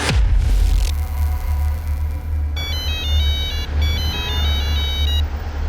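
Phone ringback tone heard while calling, a repeating electronic beep pattern over a steady low rumble, fairly loud and close with no talking.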